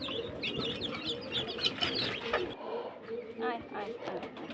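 Big and small village chickens cluck and chirp in a yard while being fed, their calls fairly close and continuous under a person talking.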